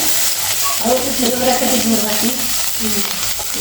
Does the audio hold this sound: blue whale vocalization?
no